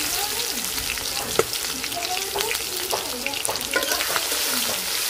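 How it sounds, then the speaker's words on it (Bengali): Garlic and green chili frying in hot oil in a wok make a loud, dense, continuous sizzle with crackling spatters and occasional stirring scrapes. "রসুনটা একটু লাল লাল করে ভাজা নিব।"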